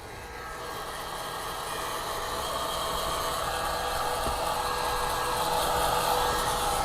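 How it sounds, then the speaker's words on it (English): A hair dryer used as a heat gun to dry a car steering wheel gives a steady whooshing blower hum that runs continuously, slowly growing a little louder, with no talking. "I'll turn off the hair dryer"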